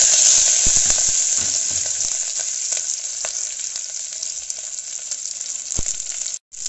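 Green chillies and curry leaves sizzling in hot oil in a pan for egg pulao, a loud, steady hiss with occasional stirring scrapes close up, briefly cutting out near the end.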